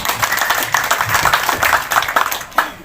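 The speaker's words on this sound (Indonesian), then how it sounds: "Tepuk tangan kepada Sarudin Gultom." Crowd applause for a regional council member at a community declaration gathering, irregular overlapping claps with chatter underneath, moderately loud and somewhat distant, one sharper clap near the end.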